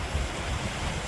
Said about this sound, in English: Here's the glacial stream coming down from Jefferson.